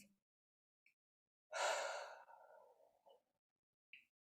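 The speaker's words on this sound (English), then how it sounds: "Exhale through the mouth." A deep exhale through the mouth during a guided breathing exercise, a single breathy whoosh lasting about a second and a half that trails off gradually, with faint small sounds before and after in an otherwise quiet room.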